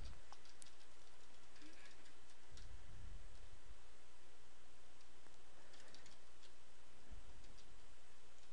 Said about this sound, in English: So I'll just finish typing these in here.